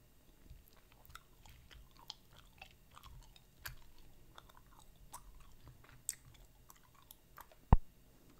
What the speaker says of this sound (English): Let me chew all of these and then combine them and try to blow a big bubble